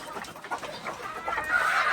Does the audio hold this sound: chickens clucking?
yes